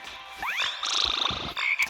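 A cartoonish frog croak from a mobile video game's zero-gravity mode plays loud and close, with a rising chirpy sweep followed by a buzzy croak and a short final blip over light game sounds.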